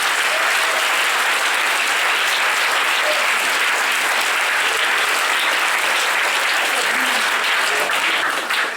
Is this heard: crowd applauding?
yes